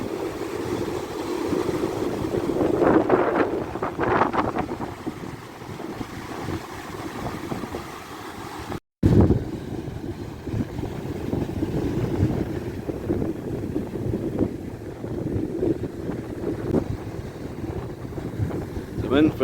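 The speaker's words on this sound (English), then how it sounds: "Not quite as fierce along here as it was along that bit, but even so, there's still quite some big waves coming in." Big sea waves rolling in at Aberdeen beach, a continuous low surf roar heavily buffeted by wind on the microphone, with a brief cut partway through.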